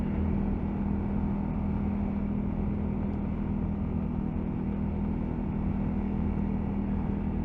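A 2022 Honda CRF300L motorcycle cruises in third gear at about thirty miles an hour, its engine a steady, loud low drone with constant road and wind rumble and no change in pitch throughout.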